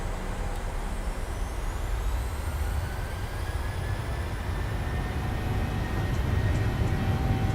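Airliner engines spool up for takeoff in Microsoft Flight Simulator 2020, on a flight out of Oslo. A steady, loud, dense roar runs throughout, with a thin rising turbine whine above it.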